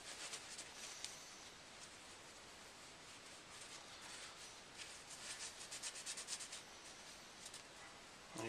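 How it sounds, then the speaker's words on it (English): A shop towel rubs inside the slide of an SR22 pistol during cleaning, a very faint, close, continuous scrubbing hiss with small irregular swells and no talking. "take a shop towel, rub out the inside"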